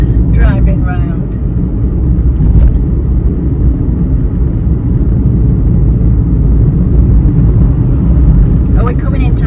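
Steady road rumble and tyre noise from a car driving along a country road near Hambleton, continuous and close throughout, with a person talking intermittently over it.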